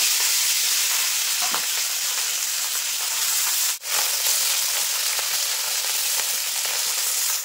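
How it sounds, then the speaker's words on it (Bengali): Puti fish frying in hot oil, cooked with brinjal in a Bengali recipe: a loud, steady, dense sizzle throughout, with one brief dip and a sharp crackle near the middle, no speech. "এই মাছগুলো কিন্তু একইভাবে ভেজে নেব"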